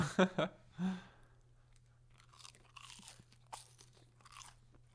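Crunchy McDonald's chicken nuggets are bitten and chewed close up, a couple of loud crisp bites at the start followed by quieter, irregular chewing and mouth sounds with no talking.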